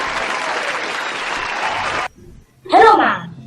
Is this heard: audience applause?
yes